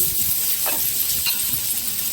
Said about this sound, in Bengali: কড়াইতে একটু তেল দিলাম